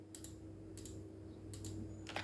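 Quiet, sparse keyboard taps and clicks at a computer during an Adobe Illustrator design session, coming in small pairs and clusters over a steady low background hum.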